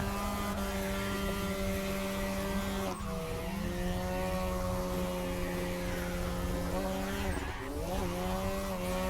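A car engine in a drifting video game drones steadily at high revs for several seconds, with shifting tones and tire squeal layered in, loud and continuous with no talking.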